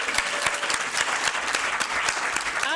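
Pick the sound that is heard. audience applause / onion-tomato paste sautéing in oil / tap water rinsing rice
audience applause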